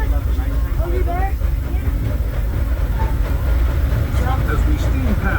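The C.K. Holliday steam locomotive on the Disneyland Railroad rolling past Hungry Bear Restaurant, with a continuous rumble and clatter of the train running close by.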